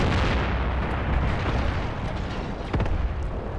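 Grenade blasts in the war game Graviteam Tactics Mius, a dense, loud rumble of explosions with a sharp burst near the end, no talking.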